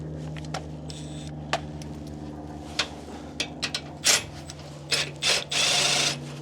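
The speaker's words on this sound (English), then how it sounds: "put the impact up, put it in the first hole, let it rip" Impact wrench driving a bolt while fitting a part to a 6th gen Toyota 4Runner, short sharp bursts that grow into a longer rattling run near the end, heard close over a steady low hum.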